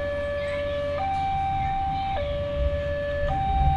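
A toy railway crossing gate switched on gives a loud, steady electronic two-tone siren that alternates pitch about every second, over faint background rumble.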